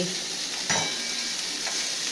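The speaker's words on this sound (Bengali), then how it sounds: "এবার নুন দিয়ে একটু চাপা দিয়ে ভাজা করবেন" Okra frying with salt in a pan gives a steady, close sizzling hiss throughout, with a brief burst of stirring or scraping partway through.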